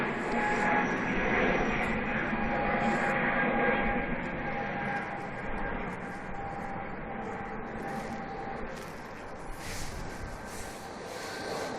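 EasyJet passenger jet bound for Geneva at Manchester Airport, a steady broad roar of jet engines that is loud and constant throughout and eases slightly toward the end, with faint talk underneath.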